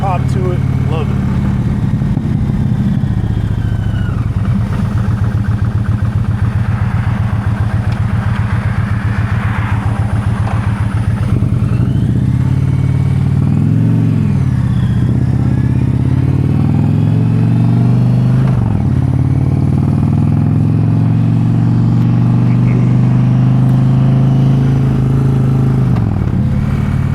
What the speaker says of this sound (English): The 108 is a snappy engine. Definitely feels good. That exhaust got that growl, got that pop to it.